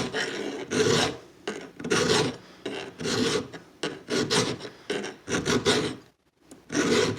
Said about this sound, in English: This is why I use the bigger files, because they cut.